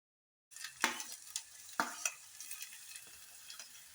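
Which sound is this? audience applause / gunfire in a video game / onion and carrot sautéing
onion and carrot sautéing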